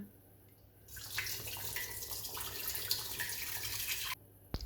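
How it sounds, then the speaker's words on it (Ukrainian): Cooking water poured off steamed vegetables back into a pot in a home kitchen, a steady splashing pour lasting about three seconds after a quiet start, then stopping abruptly. "Через пройдений час зливаємо воду назад у каструлю."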